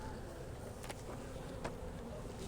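Honeybees buzz steadily around an opened beehive during a hive split, a dense close swarm hum with a few individual bees passing near.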